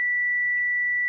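A multimeter set to continuity mode gives a single steady electronic beep, a pure sustained tone lasting about a second, clean and moderately loud with no talk over it.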